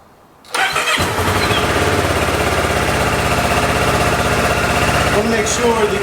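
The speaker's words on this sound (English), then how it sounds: "now we are going to start up the bike" Kawasaki Ninja 650 motorcycle engine cranking and catching after a moment of quiet, then settling into a loud, steady, close idle that runs to the end.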